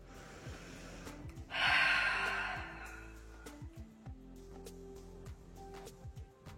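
Someone blows one long, loud breath out as a breathing exercise. It comes up suddenly, holds steady for about a second and a half, then fades, with no talk.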